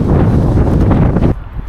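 Outdoor wind buffets the microphone in a loud, low rumble that eases off suddenly near the end.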